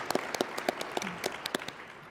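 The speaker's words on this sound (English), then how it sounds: "We just have another round of applause for all the four speakers." Light, scattered applause from a small conference breakout session audience thanking a panel of speakers: a handful of separate claps, quiet and a little distant, that quickly fade out.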